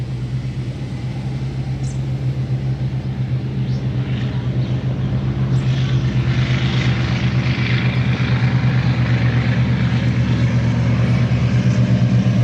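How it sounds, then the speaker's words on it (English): Boats passing on the Ohio River give a steady, loud low engine drone and rumble that holds throughout without a break, with no talking over it. "Boats going by on the Ohio River. Making noise."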